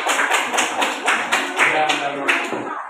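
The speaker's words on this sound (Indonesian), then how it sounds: "Tepuk tangan untuk Bapak." A classroom audience claps in a steady rhythm of sharp, evenly spaced claps, roughly two per second, for a participant after a group's science experiment presentation during an academic supervision session.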